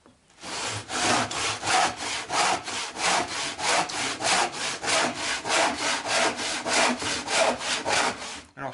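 Hand saw drawn back and forth through a wooden board for a birdhouse, a steady run of about twenty even rasping strokes, close and loud, with no talking.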